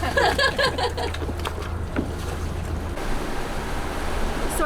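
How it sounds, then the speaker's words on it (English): Sailboat engines run steadily with a loud, constant low drone beneath wind and water noise, continuous throughout on a windy day at sea. "And the engines are running, so it's loud."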